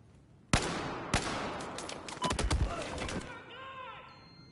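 Video game gunfire cracks out in sharp bursts, one shot then a rapid volley of loud shots close together, with voices talking over the shooting.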